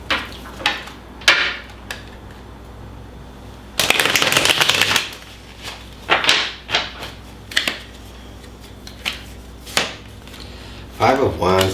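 Tarot cards being shuffled and pulled from the deck, heard as a series of short crisp riffles and slaps with one longer burst of shuffling in the middle. The sounds are close and come in irregular bursts, with no one speaking.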